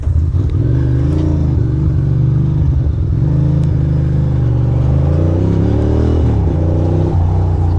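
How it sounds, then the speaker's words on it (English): A Ducati motorcycle engine runs steadily and loud, a throbbing low rumble with faint mechanical clatter and slight rises in revs, with no voices over it. "My bike sounds funny"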